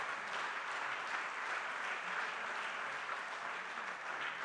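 Steady audience applause fills a hall at a Rotary district conference honouring the armed forces, a continuous even roar of many hands clapping at moderate distance with no voices over it.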